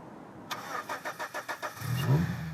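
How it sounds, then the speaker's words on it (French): A small tuk-tuk's 1300 cc three-cylinder fuel-injected engine cranks with about seven quick, even pulses, then catches and settles into a low, close rumble. "1300 cm3, 3 cylindres, moteur à injection."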